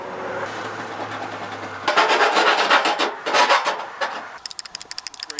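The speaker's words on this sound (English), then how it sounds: "I'm going to file down all these sharp burrs" Hand file rasping off sharp burrs on raw metal parts for an air raid snorkel, a quiet hum and then loud, close back-and-forth scraping strokes that speed up into quick short rasps at the end.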